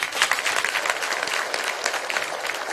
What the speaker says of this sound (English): I would suggest a better round of applause for Were